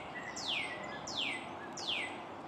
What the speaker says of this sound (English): Well, listen to the birds.